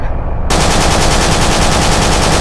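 Continuous loud machine-gun fire in the Battlefield Iraq video game, a dense, unbroken rapid rattle that starts abruptly and stays close and harsh throughout.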